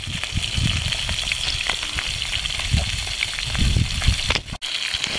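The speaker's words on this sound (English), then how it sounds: "Sizzling Viking fish in Australia." Viking fish frying in a pan on Keppel Island, Australia, giving a loud, continuous, close sizzle and crackle with small pops throughout, no talking.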